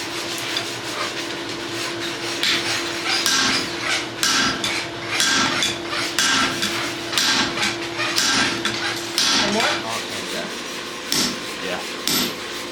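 Farrier nailing and clinching horseshoe nails on a horse's shoe, with rapid sharp metallic hammer taps in irregular bursts, close and loud, mixed with rasping and scraping between strikes.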